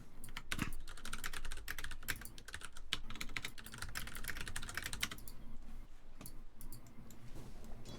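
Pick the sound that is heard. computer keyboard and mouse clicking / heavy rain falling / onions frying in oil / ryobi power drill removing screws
computer keyboard and mouse clicking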